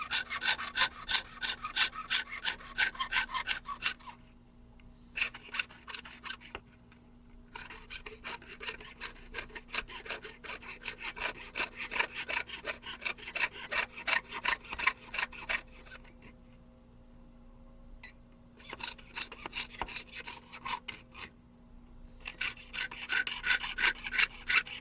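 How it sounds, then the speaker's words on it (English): Repeated rasping strokes of steel wool rubbing a surface, close and rhythmic, in long bursts separated by short pauses, with a faint steady hum beneath. "by doing the sanding and the steel wool on the surface"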